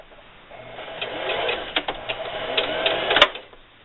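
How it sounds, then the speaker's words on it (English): A sewing machine stitching fabric along a pinked edge, a rising run of rapid mechanical needle clatter lasting a few seconds with a few short pauses, close by, ending in a sharp click. "I'm going to sew all the way around until I get to my next pin here, and I'll stop and backstitch"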